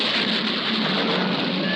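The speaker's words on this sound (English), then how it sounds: "We did it. We made it rain" Steady, heavy rain hisses loudly and evenly throughout, a dense continuous downpour with no voices.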